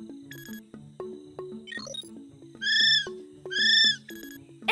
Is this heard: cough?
no